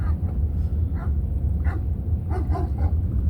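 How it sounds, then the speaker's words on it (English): A big old German Shepherd barks from the roadside at a passing vehicle in rural Oklahoma, several separate barks at some distance over a steady low engine rumble. "The big old German Shepherd on the left barking at me."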